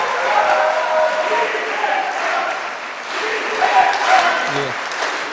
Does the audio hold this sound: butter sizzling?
no